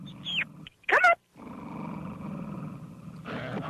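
A dog growls and snarls at a house, a short sharp vocal burst followed by a steady low rumbling growl, fairly close and clear with no talk over it.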